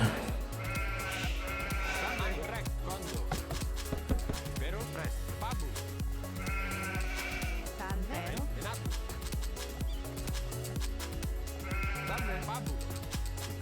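Sheep in Age of Empires bleat in short repeated bursts every few seconds, clear over steady game music and a commentator talking throughout.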